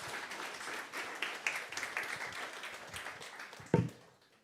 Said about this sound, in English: Then big round of applause.